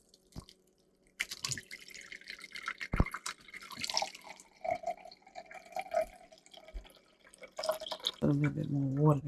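Water poured into a jar while a turmeric ginger drink is being mixed, a running, trickling liquid sound with a few drips, heard close up under some background noise and a voice near the end.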